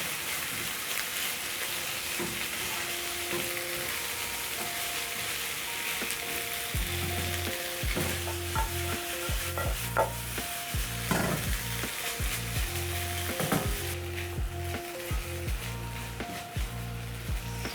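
Pork stir fry for a noodle dish sizzles in a pan, a steady close frying hiss with intermittent scraping and stirring clatter, no voices.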